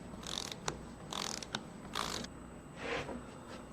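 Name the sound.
threaded stud being pulled out in a testing machine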